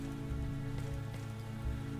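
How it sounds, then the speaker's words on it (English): Steady rain falls in Mr. Hopp's Playhouse 3, a dense continuous patter on surfaces, loud and even throughout, with a low hum underneath and no talk. "My wife left me out in the rain."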